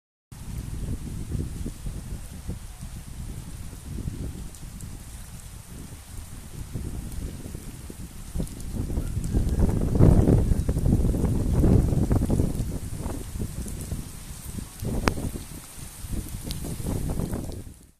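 Strong wind with moderate summer rain in Tamil Nadu makes a continuous low roar of gusts and rainfall, swelling louder midway and easing again, with no voices.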